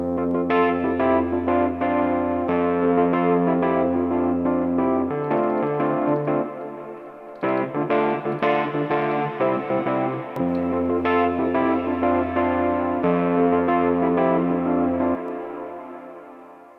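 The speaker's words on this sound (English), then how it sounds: "so I can cascade my chorus into the delay. We'll put some reverb on my delay tails." Sustained guitar-like chords swim in a wavering chorus effect cascaded into a delay plugin, with repeating delay echoes and a reverberant tail fading out at the end.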